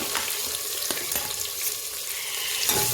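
Thinly sliced onions, two large ones, fry in a pan for a half-kilo vegetable paneer pulao, giving a steady, close hiss with faint scrapes and clinks and a louder burst near the end.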